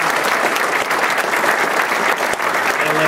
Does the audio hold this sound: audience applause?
yes